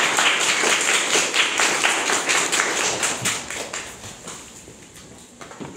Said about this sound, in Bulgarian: Моля за вашите аплодисменти за Мартин Джачков